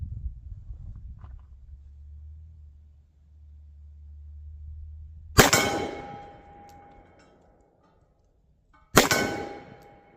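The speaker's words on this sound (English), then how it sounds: "I'm going to freehand some here at about 22 yards at that gong there" Two sharp metallic clangs from .44 Magnum bullets fired by a ported 4-inch Taurus Tracker revolver striking a steel gong at about 22 yards, each clang ringing out after a low rumble, spaced several seconds apart.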